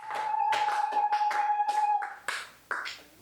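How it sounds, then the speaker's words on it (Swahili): A church congregation at a sermon breaks into applause. Many hands clap in irregular bursts over a sustained tone, then the clapping thins to a few scattered claps. "Pigeni Yesu makofi."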